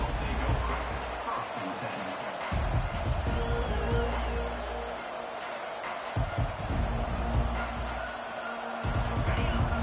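Stadium crowd roar from a college football video game, Irish versus Texas, forms a steady, loud wash of noise under continuous play-by-play commentary, swelling and dipping in waves.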